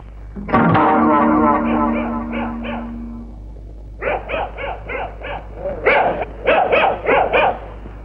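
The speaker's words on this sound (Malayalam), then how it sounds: "പട്ടിയുടെ ധർമ്മം കുറയ്ക്കുക എന്നുള്ളതാണ്" A dog barks in a comedy scene: first a long, echoing, heavily processed bark or howl, then a rhythmic run of loud, evenly spaced barks in two bursts, with a steady low hum underneath.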